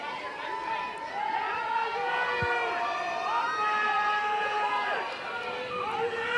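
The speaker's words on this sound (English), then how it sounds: "You hear this crowd wake up now late in the innings" Softball stadium crowd at an Oklahoma State versus Kansas college game, a steady wash of cheering and chatter that runs the whole stretch at moderate loudness, with a commentator talking over it.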